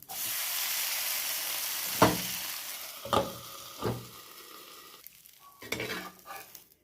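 Idli batter breakfast frying in oil in a pan with the lid on, a steady sizzling hiss broken by a few sharp scraping and clinking stirs.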